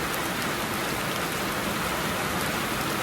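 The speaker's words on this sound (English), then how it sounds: "We need to be thankful for the rain as well, even though at times it can be a little inconvenient." Steady rain pours down throughout, a dense, even hiss of drops with no other sounds.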